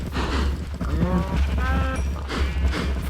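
Cattle in the Trixieverse city-builder game moo several times in quick succession, close and clear, with overlapping low calls over a steady background.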